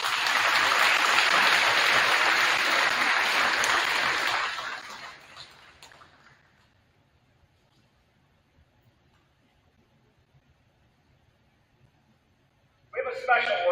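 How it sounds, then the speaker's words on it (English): A crowd at a high school sports banquet gives loud, sustained applause for about four seconds, which fades into a quiet room before a brief burst of noise near the end. "I'd like to give a round of applause to Aaron Jackson."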